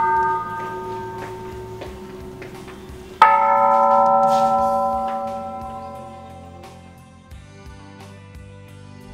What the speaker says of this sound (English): the sound of the chimes ringing in the air.